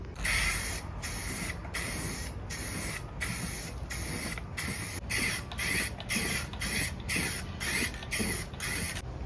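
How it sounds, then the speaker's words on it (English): Short repeated blasts of aerosol spray paint coat the underside of a Barnes bolt-on 4WD skid plate for a Jeep TJ, about fourteen hissing bursts in steady rhythm, close and loud, with no talking. "Now it's time to flip the skid plate over and paint the underside."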